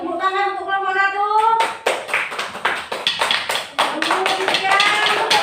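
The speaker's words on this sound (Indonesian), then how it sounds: "Tepuk tangan untuk kelompok 1" A class applauds a student group in a classroom, a dense patter of hand claps that starts abruptly after a sustained tone and continues steadily, with a voice speaking over the clapping.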